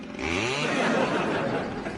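Comedy chainsaw effect in a mock surgery scene on tree stumps, a steady buzzing engine whine held loud and close for a couple of seconds with no talk over it.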